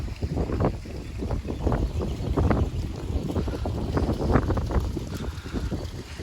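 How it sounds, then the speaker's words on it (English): Wind gusts buffet the microphone outdoors on a waterfowl farm, a close, uneven rumbling roar rising and falling in bursts with no talk. "If I can get over here out of this wind a little bit."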